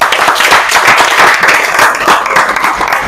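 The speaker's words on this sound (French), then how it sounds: "On peut applaudir quand même." An audience at an NGO's annual review event breaks into applause, a dense, steady wash of many hands clapping at close range for the whole stretch.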